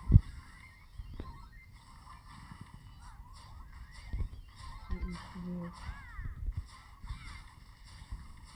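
Crows caw intermittently in the distance over a low outdoor background, with a few louder knocks and brief rumbles.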